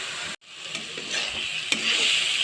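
Dried fish (shutki) with spices is fried and stirred in a pan, giving a soft, steady sizzle broken by a few scraping strokes of a spoon.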